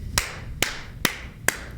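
Four sharp hand claps at an even pace, close and crisp, with quiet room background between them.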